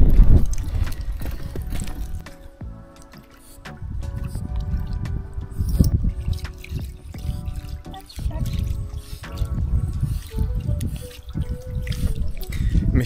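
Shallow water flows steadily over stones in a stream, with continuous close trickling and splashing, under no speech.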